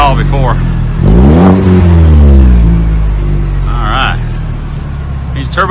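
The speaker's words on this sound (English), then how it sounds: "You can hear that turbo a little bit. Couldn't hear that at all before." A 2026 Chevrolet Silverado turbo engine fitted with a Magnaflow muffler revs up to a loud, rising roar and then settles back, with a faint turbo whine on top. Heard close up, with a few words spoken over it.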